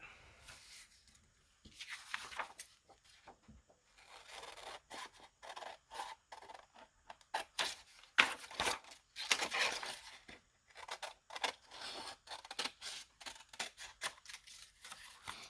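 Scissors cutting along the edge of cardboard for a paper craft journal, heard as soft, close, irregular snipping and rasping strokes that come in bursts with short pauses between them.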